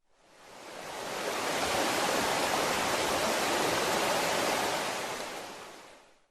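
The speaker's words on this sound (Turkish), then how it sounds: "Yemyeşil alanlar, serin serin akan şelaleler." Waterfalls pour down through green countryside at a remote hamlet, a steady, dense roar of falling water that swells in, holds constant and fades out, with no voices.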